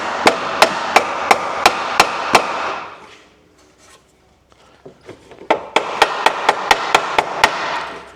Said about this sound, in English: Need a whacking stick for this job, don't we?